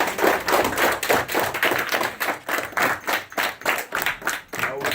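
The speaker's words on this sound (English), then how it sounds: "give Master Sergeant a round of applause" A round of applause for a Master Sergeant at a mentoring gathering, rhythmic hand claps pulsing in irregular bursts, fairly close and loud, with no talk over it.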